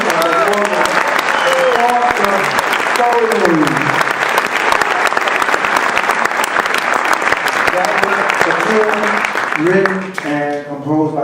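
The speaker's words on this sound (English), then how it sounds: "I want to give a round of applause to Marco Ito Argusoni" Hearty crowd applause for a musician at a Hostos College performance, dense and loud, with voices calling out over it and speech returning near the end as the clapping fades.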